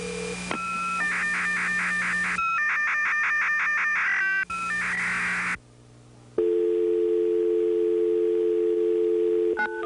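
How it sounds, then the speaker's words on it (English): Steady dial tone from an STU II secure telephone, broken by bursts of rhythmic warbling data tones and short beeps, then settling into a continuous, loud, clear tone with no talk. "he presses the secure button and waits for a dial tone."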